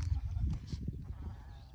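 Sheep bleat in short, close calls over low rustling farmyard noise, with a faint murmur of voices in the background.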